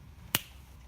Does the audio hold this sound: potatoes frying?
no